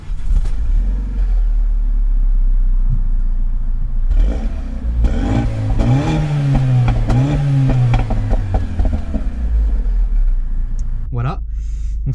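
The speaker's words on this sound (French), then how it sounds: "On va directement se mettre à l'intérieur et allumer la voiture." Renault Megane RS engine cranking to life and idling with a low rumble and a few revs, near and loud, with someone speaking over it.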